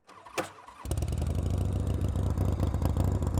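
A hubless chopper motorcycle built by Billy Lane cranks briefly, then fires up into a loud, steady, close idle with a rough, clattering mechanical rumble that runs to the end.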